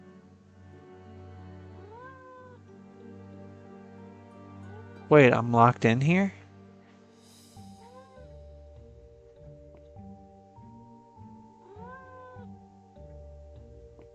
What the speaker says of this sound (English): Is that a cat meowing?